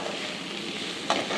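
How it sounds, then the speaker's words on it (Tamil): Onions sautéing in a pan with turmeric, a steady soft sizzle with a brief scrape of stirring near the end. "வெங்காயம் நல்லா வதங்கிடுச்சு."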